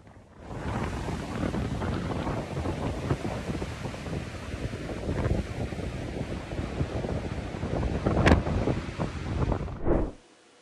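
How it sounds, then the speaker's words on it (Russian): Storm wind and heavy surf in the Faroe Islands, with waves reaching 3-5 metres: a steady, loud roar of breaking water and gusting wind that holds throughout, swells slightly near the end, then cuts off abruptly. "Шторм прошел вчера на Фарерских островах. Высота волн достигала 3-5 метров."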